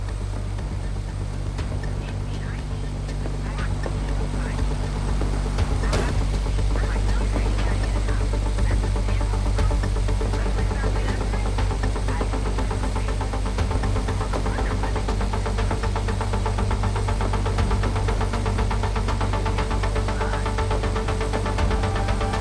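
A car engine in the video game Mindseye hums at a steady low drone throughout, with a constant mechanical rumble and no clear revving changes.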